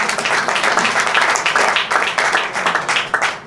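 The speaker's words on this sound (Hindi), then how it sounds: "उनके लिए एक बार जोरदार तालियां।" Loud, close applause from a crowd at a ghazal album launch, with dense, uneven clapping and distinct hand claps standing out, continuing strongly for the whole stretch.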